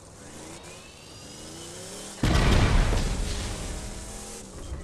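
A car in the video game Borderlands 2 hums steadily, then its engine surges into a loud, close roar of acceleration that holds and slowly eases off, with no talk.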